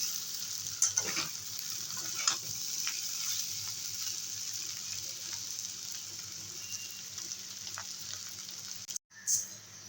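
Bitter gourd and fish roe sizzling in a pan on a raised gas flame, a continuous bright hiss broken by scraping strokes of a spatula as the mix is stirred.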